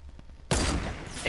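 Gunfire in a first-person shooter video game, a loud burst of shots erupting suddenly after a quiet start and continuing as dense rapid fire, with faint voices underneath.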